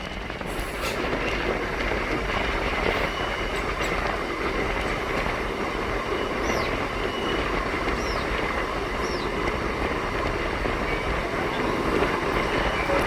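Katwa–Ahmedpur MEMU train running steadily, a continuous loud rumble of wheels and carriages with faint squeals and rhythmic track clatter throughout, heard from on board.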